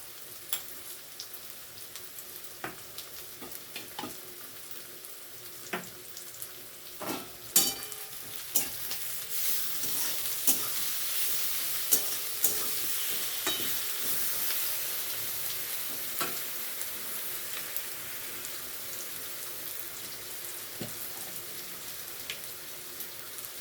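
Ginger garlic paste sizzling in hot oil in a pan alongside frying potato, a steady crackling hiss that builds gradually, with clicks of a spoon stirring close by.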